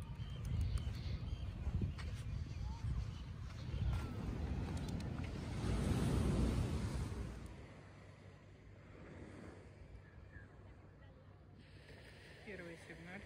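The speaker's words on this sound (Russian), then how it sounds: "Океанчик шумит." Steady broad surf of ocean waves washing onto a New York beach after light rain, a loud rolling rush that swells midway and then eases to a softer background wash.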